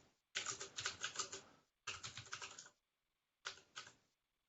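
Three bursts of rapid computer keyboard typing during an online Cinder project planning meeting, clicking keys in fast runs separated by short pauses, fairly close and alone with no talk.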